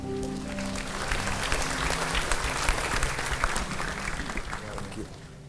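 A church congregation claps together, dense and sustained applause that fills the room, with a voice audible over it at times before the clapping fades slightly at the end.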